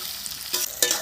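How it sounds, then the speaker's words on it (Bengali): Sliced onions fry in hot oil with a pinch of salt, making a brief close sizzle with a couple of sharp stirring scrapes. "ভাজার জন্য অল্প করে নুন দিয়ে দিলাম, যাতে তাড়াতাড়ি পেঁয়াজটা ভাজা হয়ে যায়।"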